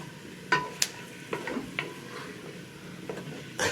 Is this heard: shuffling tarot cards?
no